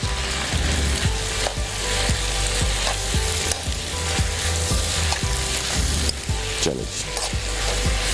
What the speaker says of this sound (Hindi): ये देखें इस तरह से 2 चमचों की मदद से अच्छी तरह से आपने मिक्स किया।